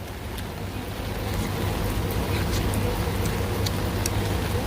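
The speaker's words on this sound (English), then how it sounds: "It's still raining." Steady rain falls outdoors at a workplace on a wet day, a dense even hiss with low rumble throughout, with no talk.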